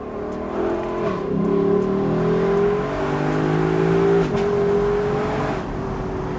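A 2021 Lexus LC 500 convertible engine revs hard while driving, a loud sustained roar with rising and falling pitch sweeps and a brief shift near the middle, close and continuous with no talk.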